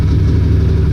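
Can-Am Maverick UTV engine idling just after start-up, a steady low rumbling drone that holds even and close throughout with no revving.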